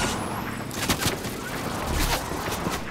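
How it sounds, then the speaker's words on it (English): Burst of NPC gunfire in the Fortnite video game, a few sharp shots cracking over busy game ambience and clutter, moderately loud with no talking. "NPC is shooting at me now"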